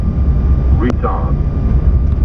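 Lufthansa Airbus A320 rolling out after touchdown on the runway, a steady loud broadband roar of engines and rolling noise, heard from inside the cockpit with a brief burst of voice in the middle.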